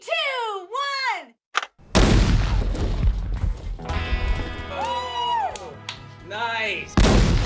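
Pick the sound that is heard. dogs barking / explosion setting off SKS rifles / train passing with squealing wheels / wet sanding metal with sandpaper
explosion setting off SKS rifles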